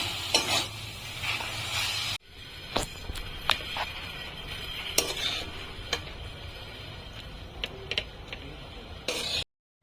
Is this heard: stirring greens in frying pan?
yes